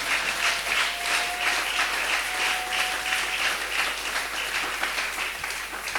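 A church congregation applauds for God with steady, dense clapping that holds at an even, loud level throughout.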